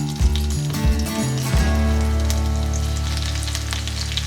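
A few metallic clanks from a kadai at the start, then a steady, close sizzle of green chillies frying in hot oil, with no one talking.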